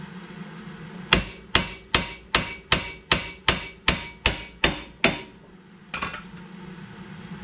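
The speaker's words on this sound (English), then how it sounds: "Just give it a good few whacks on there and it'll come right out" A hammer strikes a suspension part on a 1999 Camaro to knock it loose: eleven sharp metallic whacks at a steady, quick pace, then a short pause and one more blow, close and loud.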